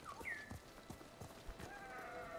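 Hooves of a galloping horse in Ghost of Tsushima thud in a quick, steady rhythm, faint and close, with light ambient game sounds around them.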